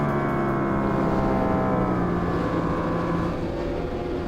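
Racing superbikes idle and rev together on the starting grid at Hidden Valley Raceway, a dense, loud, sustained engine drone with steady harmonic tones and a slight swell in pitch, no voices.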